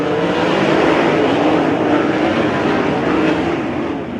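USAC AMSOIL National Sprint Cars roar together at Gas City I-69 Speedway as the green flag drops. The pack makes a dense, loud, continuous engine howl that fades slightly as it moves off.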